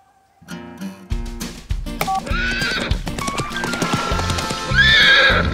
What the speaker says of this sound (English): Help me call the horse.